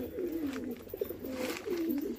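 Pigeons coo continuously, soft throaty rolling calls overlapping one another against a faint background hum.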